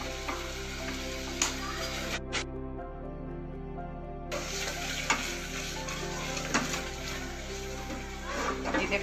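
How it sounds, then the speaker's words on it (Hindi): Tomato and cashew curry paste fries in a pan under repeated stirring, a continuous close sizzle broken by spoon scrapes, with a brief hush partway through. "ये देखो करी हमारी खूब अच्छे से भुन रही है।"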